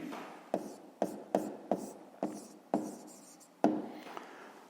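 Handwriting out a fifth-grade math solution: a pen or chalk scratching in short, separate strokes, about eight distinct taps and scrapes spaced irregularly, close and fairly quiet.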